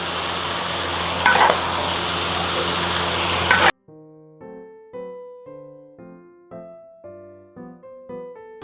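Bullfrog pieces with onion chunks stir-fried in a wok for a dry pot dish, hissing loudly with a close, steady sizzle and a scrape midway, cut off abruptly by a light plucked melody.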